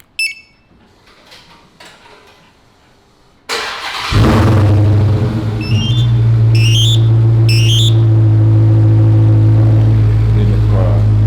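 Dodge Hellcat engine firing up by remote start through a Compustar Pro T13 system: quiet clicks and a few short chirps, then a loud starter crank and roaring catch settling into a deep, steady idle, with two bright alarm beeps over the rumble.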